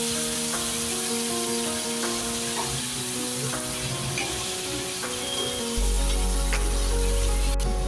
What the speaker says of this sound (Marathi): पहा काय तडतडते की नाही